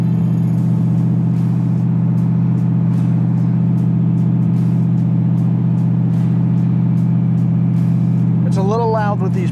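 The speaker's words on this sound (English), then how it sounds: "It's a cold day, so we're back up to high idle." A 1968 Corvette coupe engine idles fast and steady on a cold day, a loud constant hum with a low drone throughout, and a voice briefly speaks near the end.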